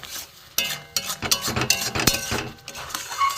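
A green raw-mango jelly mixture is stirred in a pan, with repeated scraping and clinking strokes of the utensil against the metal in an uneven rhythm, close and fairly loud.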